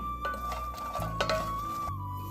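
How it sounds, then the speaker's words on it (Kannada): Makhana being stirred and roasted in a pan, close scraping and light clinking of a utensil against the metal with a faint hum underneath. "ಈಗ ಮಖಾನೂ ಬಿಸಿ ಮಾಡ್ಕೊತಾ ಇದ್ದೀನಿ."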